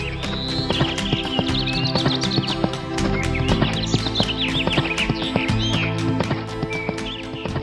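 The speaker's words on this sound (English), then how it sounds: "Morris leapt on his horse Philip and rode off" Hooves of Philip, a horse ridden by Morris through a forest, clip-clop in a fast steady rhythm, close and loud, with an occasional neigh and bird chirps mixed into a busy cartoon-style soundscape.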